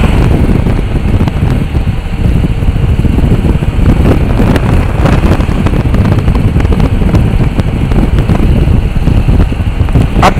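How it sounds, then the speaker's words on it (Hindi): Strong wind rushes in at the front seat of a moving van in Cambodia, a loud, unbroken roar with engine rumble beneath it and no voices. "अब यहाँ पे बहुत तेज हवा आ रही है।"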